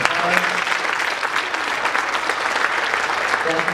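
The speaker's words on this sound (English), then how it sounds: "Why don't we give our presenters a round of applause?" A school audience at a sophomore college planning night applauds its presenters, a steady loud wash of many hands clapping that continues throughout.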